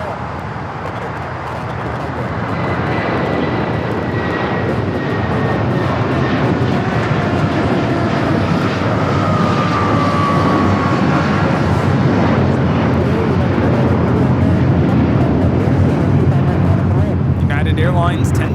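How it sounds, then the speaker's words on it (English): A Boeing 757-300 departing Los Angeles LAX for Chicago powers up from a quieter start into a loud, steady jet roar with a rising, whining tone, as people talk beneath the engine noise. "Airlines 1069 taking off to Chicago on the 757-300"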